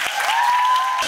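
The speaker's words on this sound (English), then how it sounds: "Please give your applause." An audience at a makeup awards gala applauds, steady clapping through the short moment with a faint sustained tone running beneath it and no speech.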